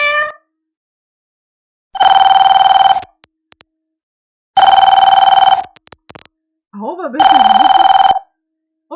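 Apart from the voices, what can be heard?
telephone bell ringing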